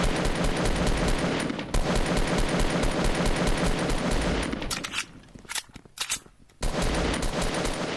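Rapid automatic gunfire from a Roblox shooter game, loud and nearly continuous bursts, with a brief lull before the shooting resumes.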